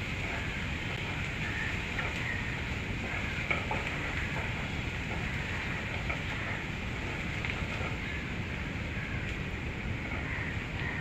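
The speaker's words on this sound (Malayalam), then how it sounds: "ഇതിന് നമുക്കൊന്ന് വഴറ്റിയെടുക്കാം" Green chili and ginger sauté in a hot pan for upma, giving a steady, even sizzle with faint stirring clicks throughout and no talking.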